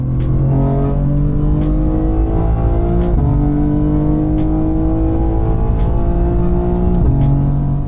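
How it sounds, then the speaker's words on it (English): A BMW M2 G87 development car running on the Nürburgring, its engine droning loud and steady with rising pitch sweeps as it accelerates, dropping briefly at two gear shifts, close and continuous with no talk. "The car heads out onto circuit, tension building with every meter."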